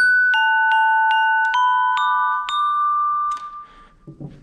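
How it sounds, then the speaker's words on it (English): A glockenspiel taps out a quick run of high, pure, bell-like notes, each struck crisply and ringing briefly in an even rhythm before a short decay closes the phrase. "Glockenspiel."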